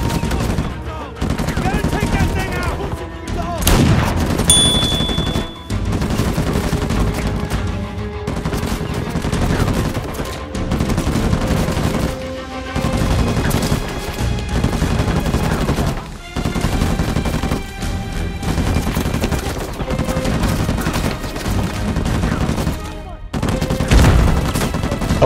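Turret gunfire in the Uncharted 4 game rattles as loud, repeated bursts of rapid shots and impacts across the whole stretch, with brief gaps between volleys and game voices occasionally heard.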